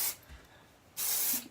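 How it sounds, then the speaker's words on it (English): Dry texture hair spray hisses out of an aerosol can in two short bursts, one brief and one longer, near and loud with quiet between. "I like this dry texture spray because it's buildable, so you can spray it on a lot or a little"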